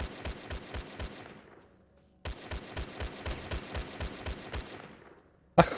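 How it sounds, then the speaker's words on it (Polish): Automatic gunfire in the game Stalcraft, two rapid bursts of evenly spaced shots with echoing decay and a pause between them, fairly close and without talk. "chuj wie w sumie gdzie on strzela, on strzela wszędzie"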